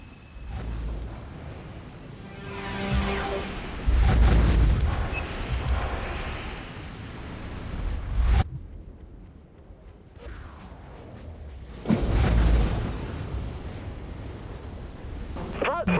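Broadside plasma batteries in the space combat game Dreadnought fire in heavy booming bursts and explosions, with loud rumbling blasts rising and falling through the stretch and a brief near-silent gap in the middle.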